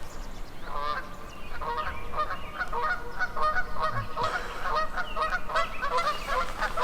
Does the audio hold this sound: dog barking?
no